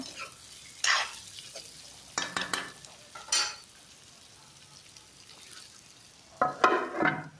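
Pork with meat masala is stirred in a frying pan: a few separate bursts of scraping and sizzling, close and fairly loud, with quiet gaps between them.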